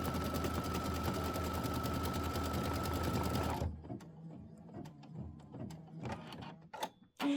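A sewing machine stitches quilt fabric in a fast, steady, loud whir for several seconds, then stops abruptly, leaving quiet handling noises and faint clicks.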